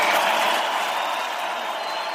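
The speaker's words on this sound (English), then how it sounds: "I'm going to give him a round of applause" Round of applause for podcast co-host Walter Gant, a smooth, steady wash of crowd clapping that holds at an even level and eases slightly toward the end.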